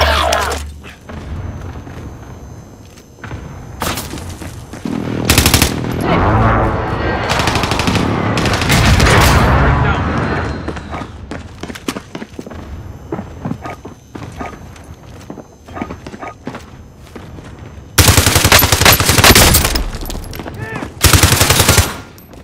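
Dense bursts of automatic gunfire from Call of Duty: Modern Warfare, loud and close, with rapid rattling volleys broken by short lulls, heavy booms and footstep-like clatter between them.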